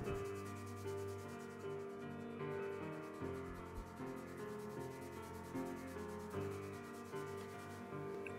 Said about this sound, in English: I usually always start off by using grit 80 and go up to 240, just to make sure that the surfaces are nice and smooth